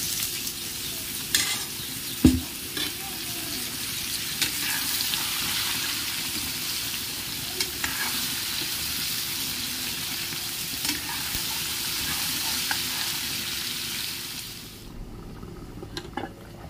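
Gourd pieces frying and being stirred in a pan with chopped onion and turmeric, a steady loud sizzle running throughout with scraping stir strokes, then cutting off near the end.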